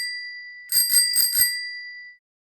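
A bicycle bell rings four quick bright dings in a row, clear and close, then a ringing tone fades out into silence.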